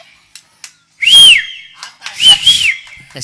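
A loud two-note whistle rises and holds high at a Valli Thirumanam stage drama, sounded twice in quick succession with brief pauses, clear and close over a quiet background.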